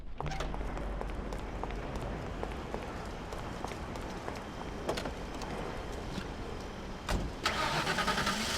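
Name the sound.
car engine starting in video game Mafia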